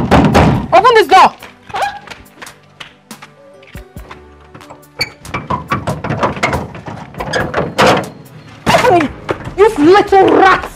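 Loud, heavy thuds of fists pounding on a door, coming in irregular bursts between angry shouting, with a brief quieter stretch in the middle.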